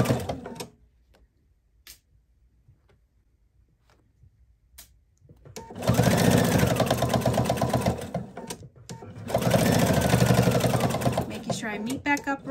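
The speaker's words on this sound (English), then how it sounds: "And just pressing down to make it easier to sew." Sewing machine stitching fabric for a baby chick piece, two loud sustained runs of fast rhythmic stitching up close, separated by a pause with soft handling sounds, with talking heard in the quieter stretch.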